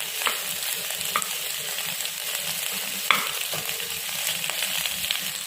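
Brinjal with vegetables and sambar powder sizzles and fries in a pan, a steady crackling hiss with occasional clicks of stirring, no talking.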